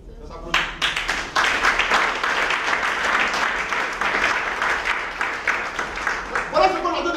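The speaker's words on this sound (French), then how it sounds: "Ça s'applaudit." A room of people breaks into applause, clapping steadily and loudly for several seconds before the sound thins out and a voice resumes talking.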